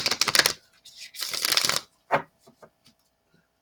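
A deck of tarot cards is shuffled close by in rapid riffling bursts, then a few softer, scattered card taps and slides trail off into silence.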